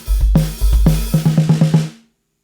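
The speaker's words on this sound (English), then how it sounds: "we're adding a bass drum on beat 1 and beat 2" A punchy drum beat: deep bass drum hits under snappy strikes, then a quick run of evenly spaced tom-like hits before it cuts off.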